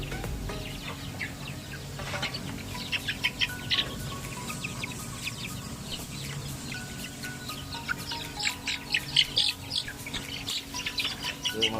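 Native Uluhano-breed chickens on a farm give a busy mix of chirps, clucks and short squawks, fairly faint and scattered over a low background hum, with no one talking.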